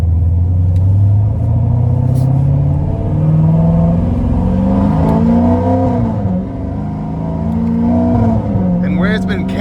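A 2016 Procharged Corvette Z51 3LT with an 850 hp supercharged, cammed engine revs and accelerates with its tires spinning, a loud, close, rumbling engine note climbing and falling in pitch across several pulls.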